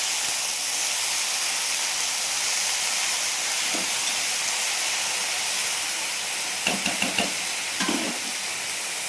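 Leafy greens cooking under a lid in a pan on low heat give a steady, loud hiss of steam and sizzle, with a few faint knocks near the end and no voices.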